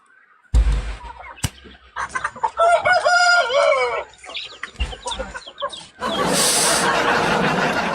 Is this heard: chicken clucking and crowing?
yes